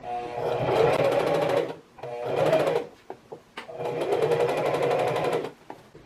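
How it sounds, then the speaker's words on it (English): A sewing machine stitches layered fabric for a ruffled mini dress in three runs of rapid, even whirring and clacking, separated by brief pauses, close and clear with no voices. "as you're feeding the fabric through your machine, just make sure that everything is laying super flat on top of each other"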